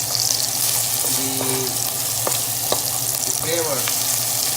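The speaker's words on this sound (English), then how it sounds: "keep doing a saute of these onions with ginger for some time" Onions and ginger sauté in a pan for an Indian rice bowl, a steady close sizzle and frying hiss running throughout, with a few stirring clinks and a brief spoken phrase over it.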